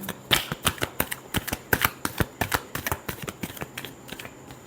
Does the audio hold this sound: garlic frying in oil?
no